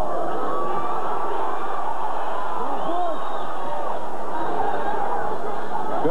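Loud, dense arena noise at the Jorge Paez vs Troy Dorsey boxing rematch, with the crowd chanting for Dorsey while Paez supporters boo, a continuous roar with whistles rising through it.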